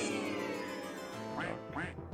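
Two quick duck quacks in King's Quest 2, sounding close and loud over a steady game music bed with no talk.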